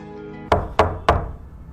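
Three firm knocks rap on a household door in steady succession, close and loud, with no voices over them.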